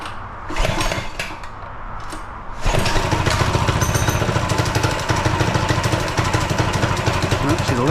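A cold minibike engine, converted from a toy scooter, sputters on full choke, then catches and runs in a loud, steady, rough putter close by.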